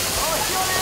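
Heavy water from a waterfall crashes down in a loud, continuous, broadband roar, close and unbroken for under a second.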